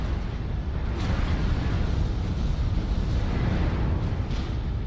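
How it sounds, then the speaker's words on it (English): Missiles exploding in a game, a continuous heavy rumbling roar with a few sharper bursts, dense and near, with no talk over it. "Oh, the missiles."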